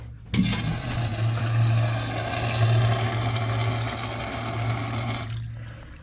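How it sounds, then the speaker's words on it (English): A Sloan SU-7009 small urinal flushes, water rushing steadily to rinse the bowl for about five seconds before cutting off abruptly; close and fairly loud, with no voices. "Honestly, the bowl rinse is pretty crappy."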